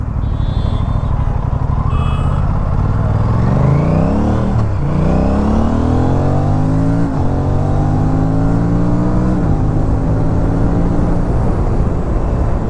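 An RS 457 motorcycle engine fitted with a DNA air filter and a dB killer rumbles loudly up close through a U-turn, revving up and down through several gear changes under heavy wind noise.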